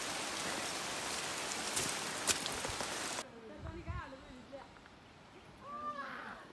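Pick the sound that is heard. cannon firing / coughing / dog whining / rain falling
rain falling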